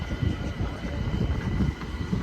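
A train rolls past at Clapham Junction in London, a loud close rumble with rushing noise and faint rhythmic wheel clatter lasting the whole short stretch.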